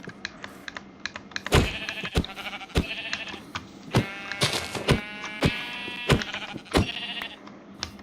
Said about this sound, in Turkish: Bir dakika koyun buldum.